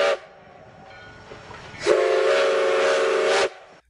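A train whistle blows in two bursts, a short one at the start and a longer, louder sustained blast near the end, over a steady hissing rumble of a rolling train.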